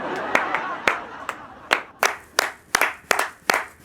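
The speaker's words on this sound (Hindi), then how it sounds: "तालियां।" Sparse, uneven hand claps from a small group, about a dozen sharp strikes spread irregularly and fairly close, with faint voices underneath.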